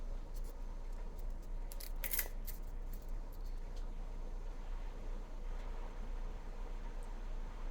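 Hardware snips cut a piece of memory wire for hoop earrings: a few faint, sharp metallic clicks cluster near the middle, set against a quiet room hiss.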